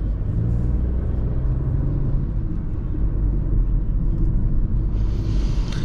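A car's steady engine and road rumble carry through the cabin as it drives with ADAS engaged, holding a constant low drone throughout.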